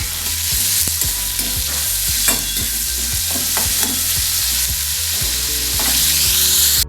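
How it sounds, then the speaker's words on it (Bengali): Onion and tomato frying in a pan with a pinch of salt, stirred steadily, giving a continuous close sizzle with repeated scraping strokes of a spatula, with no voices. "টমেটো দিয়ে নাড়তে সামান্য নুন দিচ্ছি, সামান্য নুন দিয়ে নাড়বে।"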